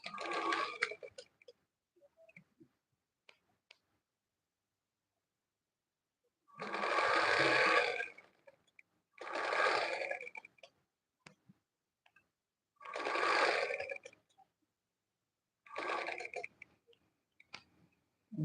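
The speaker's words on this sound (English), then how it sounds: "I'm going to begin my sewing from this side." A sewing machine stitching the shoulder seam of a dress in three or four short, loud whirring bursts, each separated by quiet pauses with small clicks of handling the fabric.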